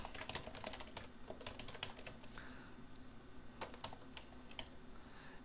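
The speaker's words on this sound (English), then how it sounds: "I'm just going to type anything right now." Fast, steady typing on a computer keyboard while working in Illustrator, a dense run of close key clatter continuing for several seconds without pause, alone with no talk.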